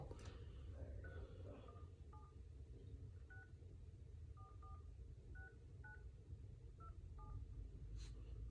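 Telephone keypad tones sound as a number is punched in, about a dozen short beeps in irregular pairs and singles, faint over a steady low rumble with a faint voice in the background.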